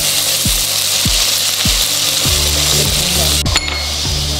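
Ginger, garlic and spices fry in hot oil for a chickpea curry, making a loud, steady sizzle close by, while a utensil repeatedly scrapes and stirs the pan.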